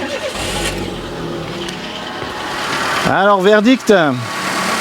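A Peugeot 207 engine cranks and catches, then settles into a steady idle after an alternator replacement, the running engine heard close under a man's brief spoken remarks.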